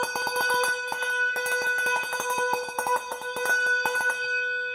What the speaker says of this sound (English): So I'm going to just ring forward. So you should be able to ring soft and loud.